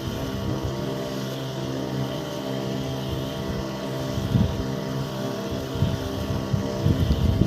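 Steady motorized drone of a running pesticide sprayer engine in a farm field, close and continuous, with some wind buffeting and no talk.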